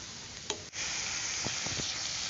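Spices frying with softened onions in a kadai, a steady close sizzle with a few brief stirring scrapes and taps, no voices.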